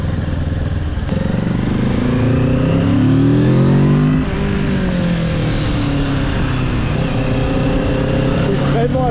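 A Kawasaki Z650 motorcycle engine pulls hard, its pitch climbing through the gears and then settling, loud and close with wind noise throughout.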